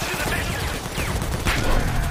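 Dense video game shootout gunfire, rapid overlapping shots and bursts that run steadily under a busy, cluttered mix with a slight swell near the end.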